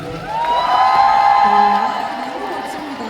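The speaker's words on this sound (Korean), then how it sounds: "김소현 손준호님 그리고 대구 군악팀에게 다시 한번 큰 박수 부탁드리겠습니다." Audience at the 2024 Korea Navy patriotic concert cheering and applauding, a loud sustained crowd roar with high whoops and shouts rising over it, swelling midway and then easing slightly.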